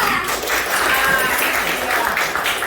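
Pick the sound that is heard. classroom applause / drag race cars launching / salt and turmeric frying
classroom applause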